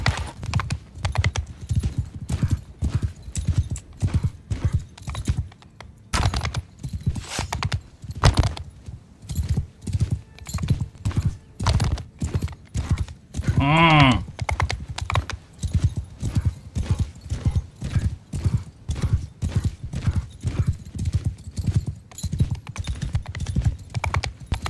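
A horse gallops in Mount & Blade 2 with the Realm of Thrones mod, its hooves pounding in a steady, unbroken rhythm throughout, and a single loud whinny partway through.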